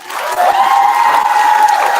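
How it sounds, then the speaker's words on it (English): Loud, dense crowd applause with faint cheering for a My Hero Academia convention panel, swelling quickly and holding steady, with a sustained tonal ring running through it. "Just give them another hand clap for me."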